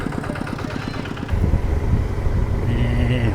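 A motorcycle being ridden home, its engine a steady close drone with a pulsing rhythm early on, then a heavier, louder rumble as the ride continues, with no talking.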